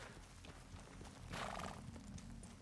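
Horses at a horse-racing event in a Western video game, with a loud whinny in the middle over steady low hoof clatter, quiet and a little distant.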